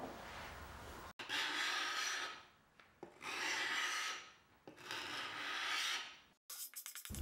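An old wooden farmhouse table is sanded by hand in four long rasping strokes, each a close, scratchy rub separated by brief pauses, with no voices.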